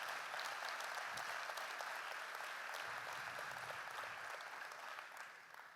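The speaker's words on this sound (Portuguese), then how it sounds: "Quem pode dar um aplauso ao Senhor Jesus nessa noite?" Church congregation applauding during an evening service, a faint, steady patter of many hands clapping that fades slightly toward the end.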